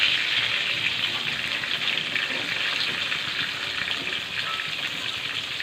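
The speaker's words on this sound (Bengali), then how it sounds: "একটু নেড়ে তেড়ে নেবো বেগুনগুলো মশলা দিয়ে ভালো তেলও বেরিয়েছে ওই তেলেই রান্না হয়ে যাবে" Eggplant pieces fry in hot spiced oil with a loud, continuous sizzle. The hiss shifts slightly as they are stirred, and no one speaks.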